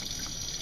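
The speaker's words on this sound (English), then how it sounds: "I got my water running." Tap water runs steadily into a bathroom sink, a continuous hiss and splash for under a second, close by and moderately quiet.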